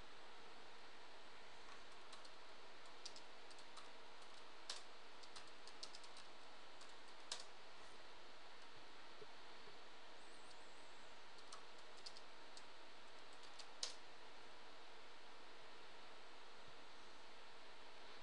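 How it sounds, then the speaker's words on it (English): Faint, sparse keyboard clicks scattered across a quiet background hiss, with occasional sharper taps like a key being pressed. "all I'm doing is typing the name and pressing enter"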